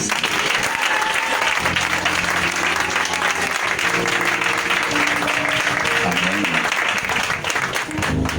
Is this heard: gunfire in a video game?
no